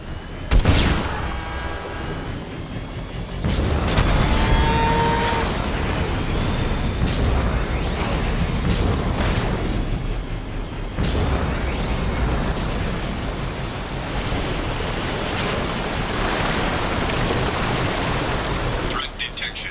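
Guided missile explosions in the video game Mass Effect 2, a dense roar of blasts and rumbling noise with sharp impacts scattered throughout, loud and continuous, with a voice speaking over it.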